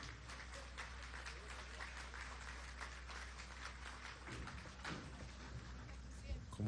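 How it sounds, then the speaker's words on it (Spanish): Crowd applause for María, a survivor of the Caracazo, at a Venezuelan government event where the National Human Rights Plan is signed, steady dense clapping under a low murmur of voices for several seconds. "Un aplauso a María."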